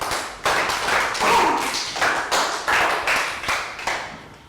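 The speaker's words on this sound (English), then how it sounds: "Round of applause for Pat." A small classroom group gives a round of applause for a pupil in a science lesson, with a series of sharp, rhythmic claps close by that repeat at a steady beat and carry on without talk.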